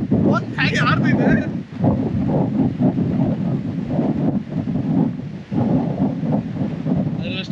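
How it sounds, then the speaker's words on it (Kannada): Strong, gusty wind buffets the microphone at a monsoon hill station in Maharashtra, a loud continuous low roar with swells, while a person talks over it. "ದೇವ್ರಡೆ ನಾನು ಮಾತಾಡೋದು ಪಕ್ಕ ಕೇಳಿಸಲ್ಲ, ಅಷ್ಟು ಗಾಳಿ ಹೊಡಿತಾ ಇದೆ ಇಲ್ಲಿ"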